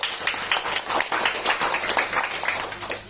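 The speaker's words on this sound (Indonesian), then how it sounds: "Tepuk tangan." A congregation at an anniversary service in a church claps together, a lively, rhythmic burst of many hands beating in a fairly regular pulse, close and fairly loud throughout.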